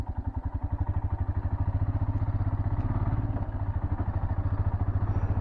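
A motorcycle engine thrums steadily on a mountain road in Uttarakhand on the way to Bageshwar, a loud, close, continuous low pulsing throb with slight clattering, no voices.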